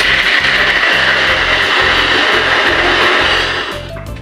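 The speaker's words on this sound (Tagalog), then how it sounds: "Grind na rin natin ang ating kamatis para sure na pinong-pino. At ayan na nga, aking ginagrind." An electric grinder nearly ten years old purees tomatoes: a loud, steady motor whir with a pulsing chop, running alone and winding down at the end.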